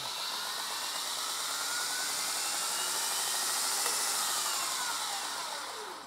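A knife maker's belt grinder runs at speed, giving a steady loud whir and high hiss that rises slightly before tapering off at the end, with no talking.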